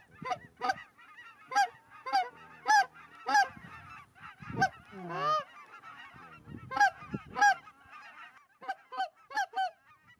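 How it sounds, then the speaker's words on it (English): A flock of geese honking repeatedly in flight near sunset in Kansas, loud overlapping calls in bursts with brief pauses, fairly close and clear with no talking. "Like clockwork, the first line of geese appear on the horizon about an hour before sunset."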